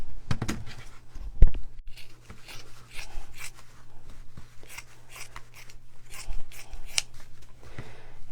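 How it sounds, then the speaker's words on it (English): Scissors snip through Dollar Tree craft fabric while making an apple window box, giving a string of close, crisp cuts and rustling material over a low steady hum. "I'm just going to cut this off of here"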